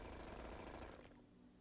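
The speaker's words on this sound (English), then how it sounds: "Let's do some digging if we can with the jackhammer." Jackhammer digging in the video game Blue Prince, a dense continuous rattling burst that cuts off and fades out after about a second, faint and alone.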